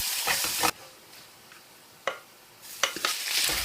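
Garlic fries in hot oil for Filipino sinangag, a close, loud hiss that cuts out abruptly, leaving a quieter stretch with a single stirring knock before the sizzle and clattering stirs return, with no talking.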